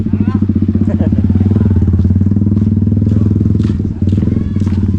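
A motorcycle engine idles close by with a steady, throbbing putter, while a few voices talk over it.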